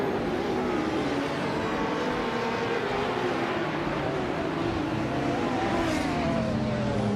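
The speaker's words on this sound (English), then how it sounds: "Going Tanto is driving a 1994 Bugatti EB 110 LM" Racing game engines roar steadily as a 1994 Bugatti EB110 LM holds pace in a race, a continuous loud engine drone with a slight swell near the end and no other sounds.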